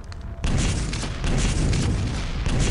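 Rocket explosions in Quake 3 Arena during a one-on-one deathmatch on the Q3Tourney5 map: a dense, heavy, booming roar that bursts in after a brief quiet moment and keeps rumbling loudly to the end.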